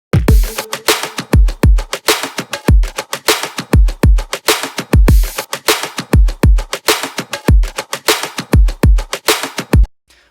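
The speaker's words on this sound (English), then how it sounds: "This is a lot of drum percussions that are really punching through the mix," Layered drum percussion punching through a progressive house mix alongside the main drums, with no hi-hats: a loud, steady groove of sharp, punchy hits with deep kicks repeating in a tight rhythm throughout.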